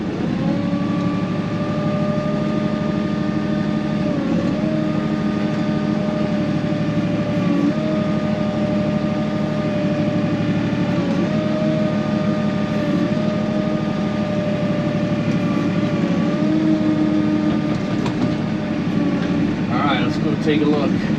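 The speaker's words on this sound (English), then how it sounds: "I'm just going to scrape up this dirt and see how it looks." A tractor with a new grapple on a third-function hydraulic circuit scrapes up moist dirt on a Southern Illinois fall food plot, its engine droning steadily and close throughout with faint scraping underneath.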